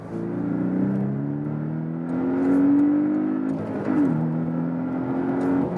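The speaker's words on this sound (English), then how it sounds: "So it's time for the next acceleration then" Porsche 718 Boxster S, a small-engined sports car, accelerates hard through relatively low gears, its loud engine note rising steadily, with a brief dip near four seconds, likely a gear change, before climbing again; heard from inside, with no talking.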